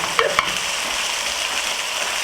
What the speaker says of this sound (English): we will cook until the liquid has evaporated and the curry separates from the oil